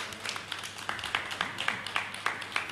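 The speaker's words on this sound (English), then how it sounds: "Clap them." Light, steady clapping from a few people, about three claps per second, fairly close and modest in volume.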